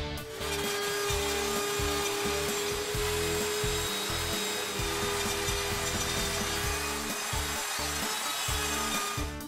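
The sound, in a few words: router cutting a 1/16 inch slot in wood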